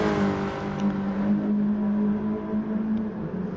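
A race car in Gran Turismo 4 laps Brands Hatch, its engine holding a steady, loud drone with slight pitch shifts as it accelerates, continuous and alone throughout.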